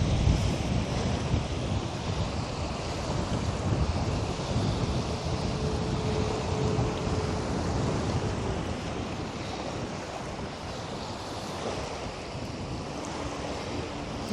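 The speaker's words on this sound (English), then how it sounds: "down on a very windy beach" Strong wind buffets the microphone on a very windy beach in Dorset facing Brownsea Island, with steady surf and waves rolling in beneath a constant, loud roar that holds throughout.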